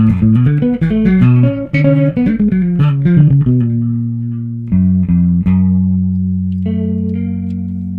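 A stacked chain of effect plugins turns a played synth line into a lo-fi, detuned, distorted sound, with chorus-like wobble and sustained chords ringing out alone and fairly loud.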